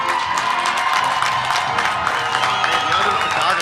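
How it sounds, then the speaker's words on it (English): Sustained, dense applause with scattered cheers fills a large room as an audience at a high school commencement claps for the graduates, steady and close throughout. "Please give the graduates a huge round of applause."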